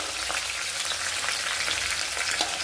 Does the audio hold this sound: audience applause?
no